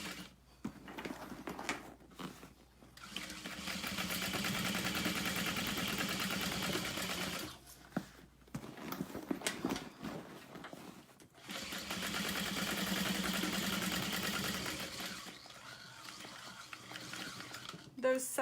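A sewing machine top stitching a vinyl tote bag runs in two long bursts of rapid, even mechanical clatter, with short pauses between them where a person speaks quietly.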